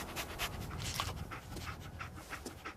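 Dogmeat, the dog companion in the video game Fallout 4, panting steadily and rapidly up close, a continuous rhythmic breathy huffing with no talk over it.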